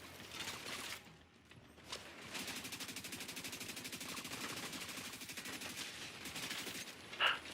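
Gunfire striking a tank in a video game, rapid machine-gun bursts rattling in a dense continuous stream at moderate loudness, with a brief lull and a sharper hit near the end.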